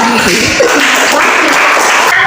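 Students in a school history lesson give a short burst of applause for a classmate's answer, a loud, close patter of clapping that continues throughout.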